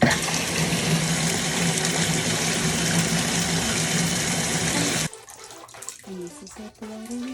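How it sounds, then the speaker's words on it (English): Water runs steadily from a tap into a bathtub, a loud, even splashing rush for about five seconds before it shuts off, leaving quieter dripping and faint bathroom sounds. "so I'm just gonna run a bit of water"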